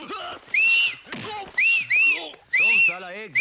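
Someone whistles in short, rising-and-falling bursts, loud and close, alternating with crowd voices and talk in a Hindi action film scene.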